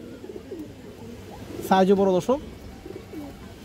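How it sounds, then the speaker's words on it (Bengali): A female Army pigeon with red eyes coos once, close and loud, mid-way through, while someone talks before and after it. "আর একটা মাদি কবুতর মাশাআল্লাহ, আর্মি শিলের একটা মাদি"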